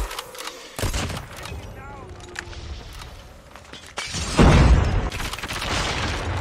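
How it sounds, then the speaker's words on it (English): Warning shots fired in COD Mobile: a few sharp gunshots and short bursts, with a heavier burst of fire near the end, all mixed under game noise and voice chat. "These are warning shots just to back them off."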